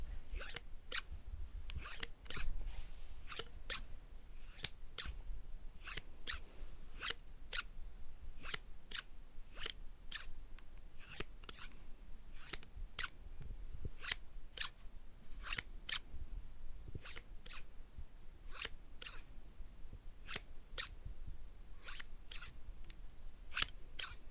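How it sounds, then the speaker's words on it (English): Dressmaking scissors cutting the sleeves off a shirt, a long run of crisp, evenly spaced snips close up against a quiet background, with no talking. "So we're gonna start off cutting off the sleeves with my scissors."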